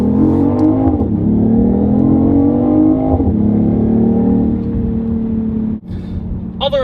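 A BMW i8 hybrid sports car accelerates close by, its engine note rising steadily in two long pulls with a gear change between, ending in a brief lull and a short whir.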